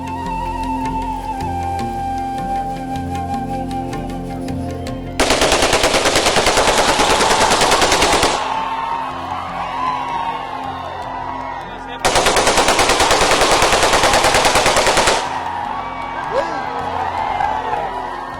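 Police firing guns in a celebratory welcome at the Medaram Jathara festival: two long bursts of rapid, loud gunfire, each lasting a few seconds, with a crowd cheering and whooping between the volleys.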